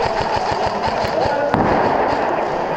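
Gunfire in the OP Thunderdome video game: a steady stream of rapid automatic shots with one sharp bang midway, while a voice talks over the action.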